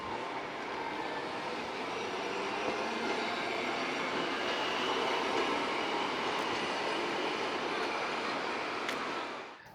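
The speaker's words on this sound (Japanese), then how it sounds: "路面電車がある街っていいですよね。" Tram rolling through central Kumamoto city, a steady loud rumble of wheels on rails sustained throughout with faint squeals, fading away at the end.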